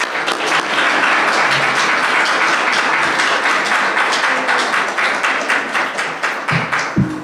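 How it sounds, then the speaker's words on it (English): Dense, steady audience applause fills a high school STEM program event as a board member is welcomed, many hands clapping at close range with no speech over it. "Please give her a round of applause."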